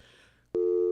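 A telephone busy signal sounds after a radio call-in line drops: a sudden clean, steady electronic tone cuts in and holds loud and close after near silence.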